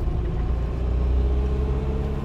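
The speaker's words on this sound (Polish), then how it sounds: "A teraz przejedziemy się pierwszym Polonezem, czyli Borewiczem, tudzież Ochódzkim." An FSO Polonez, the first version built on the Fiat 125p platform, drives along with a steady low engine rumble and road noise heard from inside the car, continuous and fairly loud with no talking.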